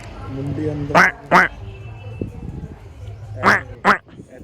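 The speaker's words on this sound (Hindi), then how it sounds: "नीचे ये है बत्तखें" Loud, nasal duck quacks from a temple pond come in two pairs, close by, with a person talking quietly in between.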